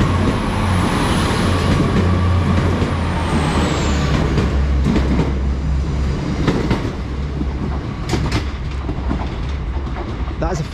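A five-car Class 802 train on the London Paddington to Plymouth service runs through Exeter St Davids, its engine rumbling low and steady while wheels click over rail joints and brakes hiss near the end.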